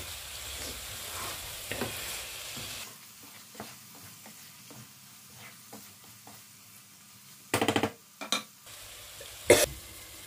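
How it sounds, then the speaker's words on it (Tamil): Sausage sautéing in masala in a pan for biryani gives a soft sizzle, with intermittent stirring clatter and a few sharp loud clanks near the end. "சாசேஜ் வந்துட்டு ஓரளவுக்கு இதில் வந்துட்டு வதங்கணும்"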